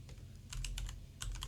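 Keys pressed on a computer keyboard, a few quiet separate clicks in two small bursts, close and soft with no talking.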